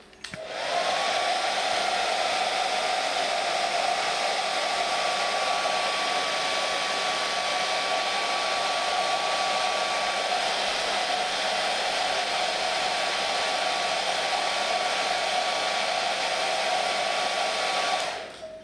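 A heat gun or hair dryer warms the edges of a sticker on a 2007 Honda CBR 1000RR HRC side fairing, giving a loud, steady blowing whir that runs unbroken from start to finish.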